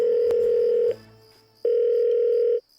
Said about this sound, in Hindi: अथर्व ने पूरी बात भी नहीं सुनी और मेरी कॉल काट कर बहादुर को फोन मिलाया।